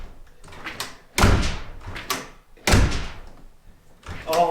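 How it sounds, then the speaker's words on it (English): A newly installed exterior door on a she shed is swung and shut, giving two heavy, close thuds with rattling. Softer knocks and handling sounds come between them. "So I'm gonna shut this door for the first time."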